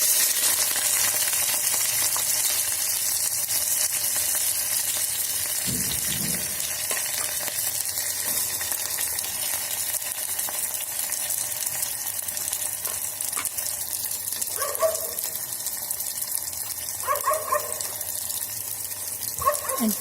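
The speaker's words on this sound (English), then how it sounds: "And fry the onions till they turn light brown color." Green chilies and onions frying in an electric kettle, a constant hiss of sizzling oil with a few clinks and stirring knocks near the end, close by and without talk.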